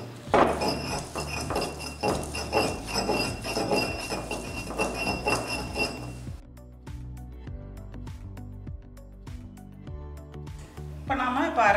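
Stone mortar and pestle grinding neem leaves into a paste, heard as steady rhythmic pounding and clinking under a speaking voice, with the strikes continuing more sparsely after the talk stops.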